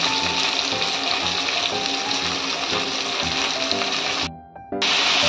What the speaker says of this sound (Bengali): আমি এইগুলো একসঙ্গে কষাচ্ছি।